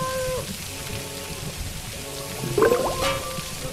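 Rain falling indoors in an office in the LEGO Harry Potter video game, a soft steady patter of drops under tonal game music, with a brief splashy flourish near the end.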